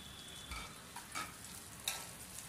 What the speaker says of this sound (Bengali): পেঁয়াজটাকে 1 মিনিটের মতো ভেজে নেব।